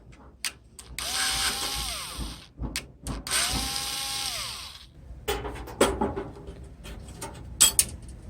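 Power tool whine and ratcheting while loosening nuts on a JET LPG instant gas geyser, two long loud bursts with a falling pitch, then scattered metallic clicks and clanks close by.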